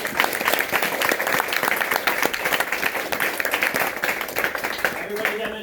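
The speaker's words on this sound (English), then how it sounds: "Let's give them an applause." Group applause at a martial arts test night, brisk and dense clapping from many hands, sustained throughout with voices mixed in toward the end.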